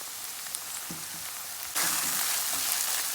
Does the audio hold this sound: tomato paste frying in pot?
yes